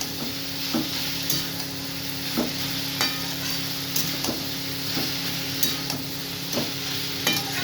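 Cauliflower and potato curry being stirred in a pan, with a steady sizzle and a scrape of the spoon roughly every half second to second, close and continuous without any talk.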